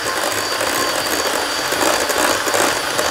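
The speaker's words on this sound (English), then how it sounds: "I've got another 125 mils of cream, which I'm just going to whip to soft peaks" Cream being whipped by an electric mixer toward soft peaks for a chocolate pudding, a steady close whirring and rattling drone with no pauses, no voices heard.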